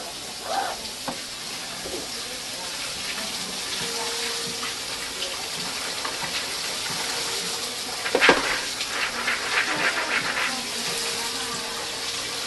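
Steady running water from a tap pours and splashes continuously over black-eyed peas being rinsed, with occasional clinks and a louder splash partway through.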